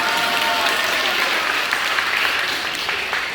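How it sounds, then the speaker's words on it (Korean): Worshippers at a Catholic mass break into brisk, full applause that fills the room evenly and stays loud, with no pause, for a few seconds. "박수."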